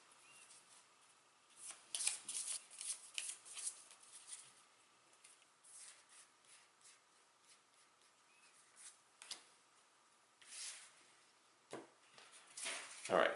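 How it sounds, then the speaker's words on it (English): Cards riffle and shuffle in several quick bursts during a Legendary Buffy the Vampire Slayer deck-building card game, close and crisp, separated by quieter pauses with faint handling noises. "I need 1 more, so I'm going to have to shuffle"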